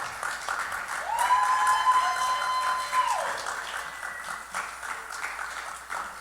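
An audience at a church evening gathering applauds a speaker, steady crowd clapping that swells and then slowly tapers off, with a faint voice briefly heard over it.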